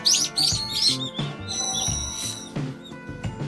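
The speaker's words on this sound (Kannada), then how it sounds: "ಗುಬ್ಬಚ್ಚಿಗಳ ಸೌಂಡ್ ಕೂಡ ಕೇಳಿಸ್ತಾ ಇದೆ." Sparrows chirping in a park during cherry blossom season in Japan, a lively cluster of bright, rapid tweets and short calls, fairly close and clear, with no talk.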